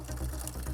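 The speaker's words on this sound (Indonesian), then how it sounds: "dia ngisi air keran ke dalam ember" Tap water runs steadily into a moss-covered bucket at a home where fake refill gallon water is made, a short continuous pouring rush over a low hum.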